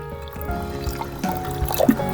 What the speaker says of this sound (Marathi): मसूरपेक्षा दुप्पट असं पाणी टाकूया त्याच्यात